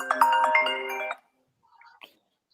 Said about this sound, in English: That's the drug phone going off there.